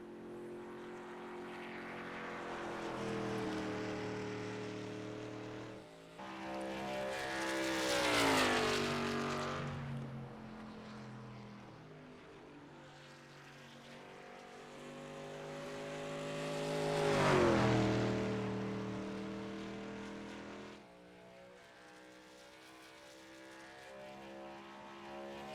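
A race truck engine in a racing video game screams through a hot lap at Motegi, rising and falling in pitch as it revs up through gears and drops on braking, twice building to a loud peak.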